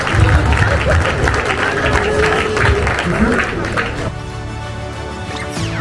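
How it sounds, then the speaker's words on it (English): At a youth football club's annual awards ceremony, a crowd claps loudly for the sponsors, the applause giving way midway to music and hall noise. "Massive round of applause for our sponsors"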